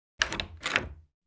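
A door is opened with two quick close clunks and rattles in a row, each brief, then silence.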